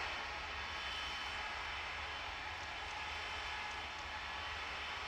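An airliner departs in the Tower! Simulator 3 airport game at Sint Maarten, a steady, faint jet engine roar with a broad hiss and low rumble that holds evenly throughout, without talk.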